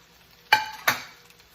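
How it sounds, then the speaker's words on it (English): Zucchini and carrots being sautéed over medium heat for okonomiyaki, heard as two quick scraping stirs in the pan followed by a soft, fading sizzle in an otherwise quiet kitchen. "saute in a medium heat."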